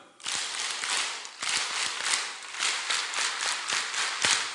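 A church congregation claps hands together in a dense, steady burst of many overlapping claps with rhythmic pulses, loud and close, with no talking over it.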